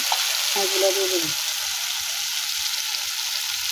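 Spice masala paste fries in a pan for a fresh shing fish curry in a village kitchen, giving a steady, close crackling sizzle throughout, with a brief tonal sound near the start.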